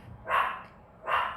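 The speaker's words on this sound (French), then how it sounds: "Je suis désolée pour le chien" A dog at home gives two loud, separate barks close by, spaced about three quarters of a second apart.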